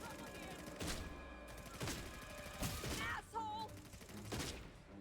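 Rapid bursts of gunfire in the vampire shooter video game Redfall crackle over a busy game soundscape of mechanical clatter and effects, fairly loud and continuous with repeated sharp volleys.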